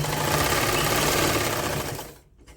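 A sewing machine stitches a knitted woollen sock with a loud, steady whirring drone close by, then winds down and stops near the end, with no one talking.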